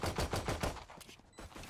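Rapid gunfire in the tactical shooter Valorant, a burst of several sharp shots in quick rhythm followed by a couple of spaced single cracks, fairly close and clear.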